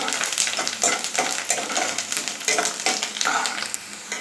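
Curry leaves fry in hot oil with onions for an egg dum biryani, giving a loud crackling sizzle broken by repeated scraping stirs at a quick, uneven rhythm, close up and with no talking.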